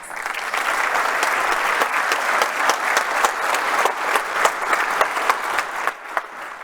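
A large audience applauds after a presentation by Rosanna Costa, Governor of the Central Bank of Chile: dense, steady clapping that stays loud and even throughout, with no talk over it.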